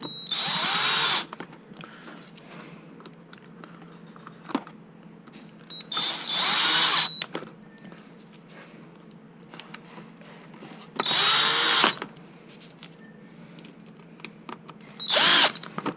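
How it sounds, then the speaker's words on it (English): A power drill drives the four screws that fasten a motor controller back into its cowling during a battery connection replacement, in several short, loud whirring bursts separated by quieter pauses of handling. "we can fasten that motor controller back into the cowling. So just the 4 screws."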